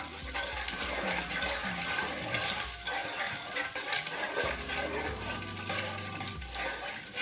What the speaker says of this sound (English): we're just gonna put that in the brine and stir that ice around